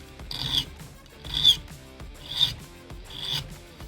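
A hand file rasps across the burred head of a small screw in four rhythmic strokes about a second apart, each a close, gritty scrape with pauses between.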